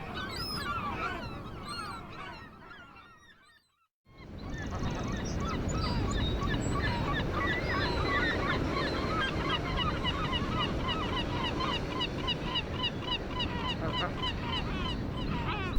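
Geese honking in a dense, continuous chorus of overlapping calls, broken by a short silence and then resuming loud and steady for the rest of the stretch.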